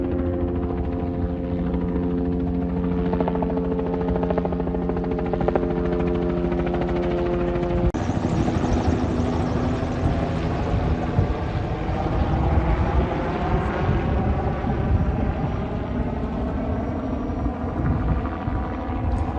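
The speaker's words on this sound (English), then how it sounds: "And we got a chopper" A helicopter's rotor thumps and engine roar fill the air steadily, loud and overhead, swelling and shifting as it circles.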